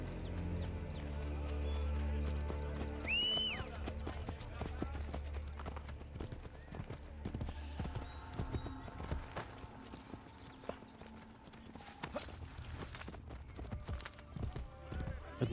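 A horse gallops in the video game Assassin's Creed: Brotherhood, with rhythmic clip-clop hoofbeats and a brief whinny, set under in-game ambience and a talking voice.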